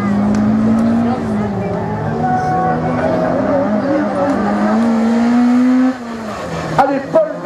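A race car runs a slalom course at Lessay, its engine holding a steady, loud drone that rises and falls through the gears. The engine cuts back near the end, and an announcer's voice runs over it.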